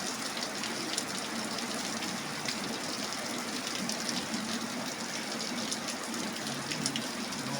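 Steady, dense rain pours down continuously on a patola (sponge gourd) garden, a broad hiss with scattered drips and patters, with no voices.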